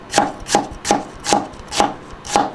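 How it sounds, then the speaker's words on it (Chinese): A knife slices ginger on a cutting board in six evenly spaced, crisp chops about every third of a second, close and distinct with no voices. "切点姜片"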